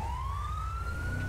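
Ambulance siren wailing, a brief steady upward glide heard over a vehicle's low engine hum, moderately distant and with no voices.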